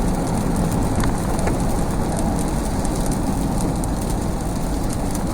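Steady rain drums loudly on a vehicle while driving, a dense continuous hiss of drops with a low road rumble underneath and no break throughout.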